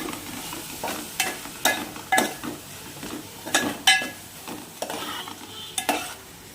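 A spoon mixes mushroom biryani masala in a pan, giving repeated sharp metallic scrapes and clinks over a soft sizzle, in uneven bursts about every half second; no one speaks.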